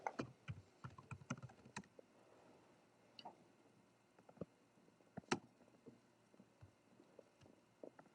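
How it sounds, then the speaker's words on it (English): Quiet computer keyboard typing while entering a header into a spreadsheet: irregular bursts of soft clicking keystrokes, denser at the start, with short pauses between bursts. "I'm going to type in 5-number summary."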